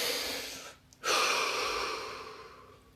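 During a guided relaxation session, one close, deep breath is drawn in, pauses briefly, then is released in a long, steadily fading exhale.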